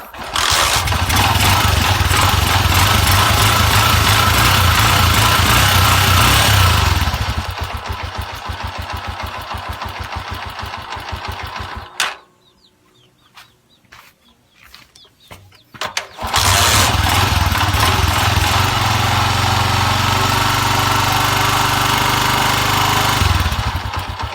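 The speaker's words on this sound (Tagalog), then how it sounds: "Paanda rin yung motor guys." Motorcycle engine running loud and steady, cutting out for a few seconds of near silence before restarting and revving again at the same level, with no voices over it.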